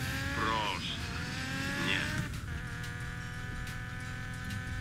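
A car in the racing game Need For Speed Payback drives hard. A steady engine roar carries two sweeping tire squeals early on, then settles into a continuous drone.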